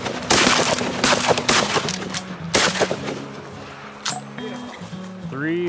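Shotguns fire rapid volleys at early-season blue-winged teal ducks, several loud close blasts in quick succession, followed by a short whistle or call near the end.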